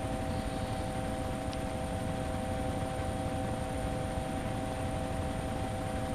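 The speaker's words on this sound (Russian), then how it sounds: "Ты вертолет полностью заправлял, Лёх?" Helicopter in DayZ Origins heard from inside while flying, a constant loud droning rotor and engine roar with a steady whine on top, no talk.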